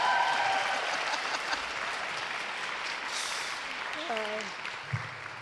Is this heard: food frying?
no